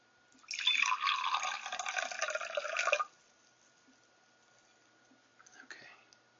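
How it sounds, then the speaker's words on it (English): A paintbrush is swished and rinsed in water during an ASMR skin painting session, giving a close, soft, continuous watery swishing for a few seconds, then silence and a brief faint splash. "First of all, we need to wash out this brush."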